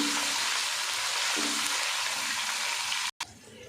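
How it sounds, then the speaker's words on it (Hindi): Ginger and garlic paste sizzling in hot oil in a pan for chana daal gosht, a steady bright hiss that holds loud and even before a brief cut and a quieter sizzle after. "अब इसमें हम डाल देंगे अदरक और लहसुन का पेस्ट"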